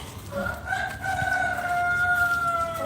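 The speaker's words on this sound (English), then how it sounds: "can you sleep in a place with screaming chickens?" Roosters crow in long drawn-out calls over a clucking flock of chickens, loud and close, with a steady background din and no talk.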